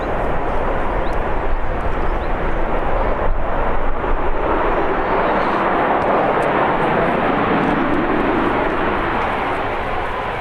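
A jet airliner departing Birmingham Airport, a loud broad roar of engines that swells and holds steady across the whole stretch, no talk.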